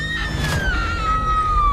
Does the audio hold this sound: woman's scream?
yes